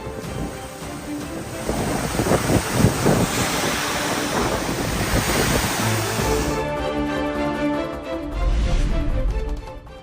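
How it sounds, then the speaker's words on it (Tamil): Agaya Gangai waterfall in Kolli Hills, Namakkal district, swollen in flood after continuous rain, gives a loud, unbroken rushing roar with gusty wind buffeting the microphone. The roar shifts in tone partway through. No one speaks. "நாமக்கல் மாவட்டம் கொல்லிமலை ஆகாயகங்கை அருவியில் வெள்ளப்பெருக்கு."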